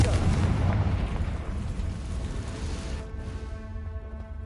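Confringo fire spell explosion from Hogwarts Legacy, a loud rumbling blast that fills the clip and slowly settles into a sustained roar with faint tonal ringing toward the end.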